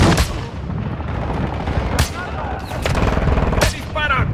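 Gunfire in the Call of Duty MW2 video game: loud, close bursts and sharp single shots over a constant rumbling battle bed, with strong cracks near the start, middle and end.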